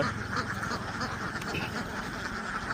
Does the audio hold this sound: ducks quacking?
yes